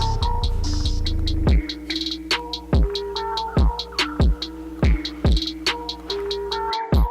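An Andis hair clipper, blade lever fully open, buzzes steadily while cutting a first guideline all the way around a head, with soft rhythmic thumps recurring about every half second as it passes along the hairline.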